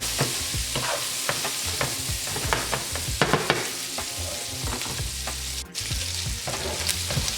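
Sausage sautés in a pan with leftover oil or fat, giving a steady crackling sizzle close up, with occasional scrapes and stirring clatter and no talking.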